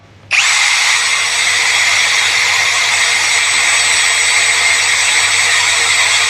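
A Total 16V cordless power drill runs at its second speed setting, starting abruptly and holding a loud, steady high-pitched whine with a constant motor hum, close up and alone for several seconds.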